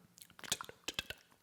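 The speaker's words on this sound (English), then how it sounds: "this episode, they'll just hear us chewing and drinking coffee" Close, quiet mouth noises of people chewing, with small wet clicks and crunchy bites in a short burst, no talking over them.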